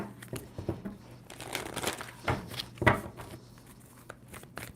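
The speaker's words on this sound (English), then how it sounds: "Two more shuffles for Sagittarius." A tarot card deck is shuffled in short riffling, crinkling bursts, a few separate flurries close by with small pauses between them.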